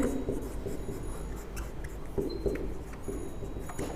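Chalk or a marker scratches steadily across a board during a class 10 maths lesson, a continuous close scraping with small rhythmic strokes and no speech over it.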